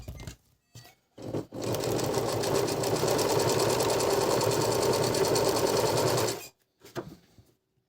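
A Singer 822 sewing machine running a zigzag knit stitch, a loud steady mechanical chatter for about five seconds, bracketed by a few short bursts as it starts and stops.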